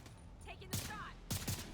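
Gunfire from the video game The Division 2 comes in two quick loud bursts of shots, the first about midway and the second near the end, with brief game voices and effects in between.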